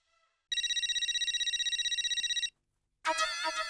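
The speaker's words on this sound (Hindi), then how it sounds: "उठाता ही नहीं हूँ, बजने दो। उठा उठा, फोन उठा।" A phone ringing in a sitcom scene, a loud electronic ringtone pulsing rapidly for about two seconds, a short pause, then another burst of a brighter warbling ring.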